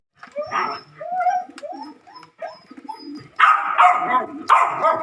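Three-day-old young pigeons make soft, squeaky cooing and peeping calls nearby in short, uneven bursts, louder toward the end.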